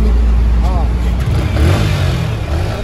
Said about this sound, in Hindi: साउंड देख ले कैसी है,